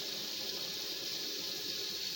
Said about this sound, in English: Fill it up with cold water.